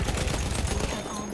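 Rapid bursts of gunfire from the Battlefield video game fill most of the moment, dense and loud, fading somewhat toward the end.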